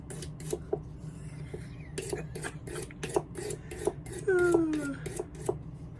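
Rhythmic strokes of a blade being sharpened while working on Grant Stone Diesel boots during a resole, a series of evenly spaced rasping scrapes, close and moderately loud, with brief speech-like sounds mixed in.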